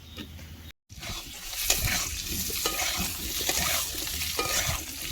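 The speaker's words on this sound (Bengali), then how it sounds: "ভালো করে আলুটাকে ভেজে নিতে হবে" Potatoes frying in hot oil in a pan with a pinch of salt, a steady broadband sizzle with occasional stirring scrapes, close and moderately loud, broken by one brief silent gap near the start.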